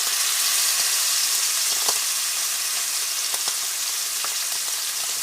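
Short ribs sear in a hot pan for an Instant Pot recipe, giving a steady, loud sizzle and frying crackle with a few sharp pops. No one speaks.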